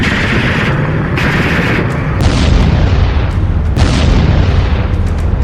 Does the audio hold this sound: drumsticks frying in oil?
no